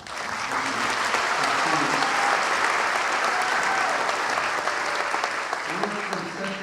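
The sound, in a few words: audience applause at commencement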